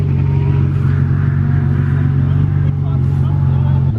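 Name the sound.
Ferrari F50 hypercar moving off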